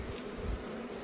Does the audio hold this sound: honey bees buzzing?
yes